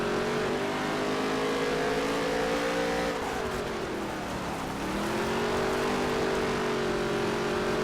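Simulated NASCAR stock car engines from NASCAR Heat 3 drone loudly and steadily, with the pitch dipping and climbing again as the cars work through a corner in a close pack.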